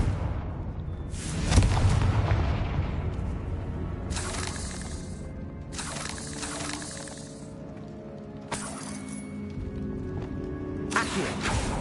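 In Hogwarts Legacy, a Confringo blasting spell bursts with a loud booming crash and scattered shattering debris, followed by several shorter bright impact bursts, with game sound layered around them.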